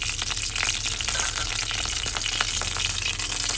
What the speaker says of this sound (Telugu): ఎర్రగడ్డ, కరివేపాకు అండి, ఫ్రై బాగా ఫ్రై అవ్వాలి.